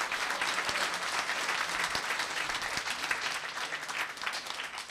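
A town council meeting audience applauds steadily, dense clapping from a crowd filling the room at even loudness for the whole stretch.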